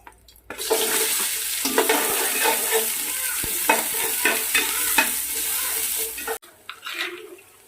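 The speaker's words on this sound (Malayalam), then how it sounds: "ഇനി നമുക്ക് ഉള്ളി ഒന്ന് ചെറുതായിട്ട് വഴറ്റാം" Onion sautéing in a pan for chicken kuzhimandi, a dense steady sizzle with frequent scraping stir strokes, close and loud, running unbroken until it cuts off near the end.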